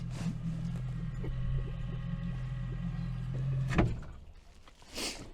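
An outboard boat motor is tilted up on the St. Croix River: a steady low electric whine with a rising hum runs for several seconds, ending in a clunk near the four-second mark, followed by a brief bump and quieter water.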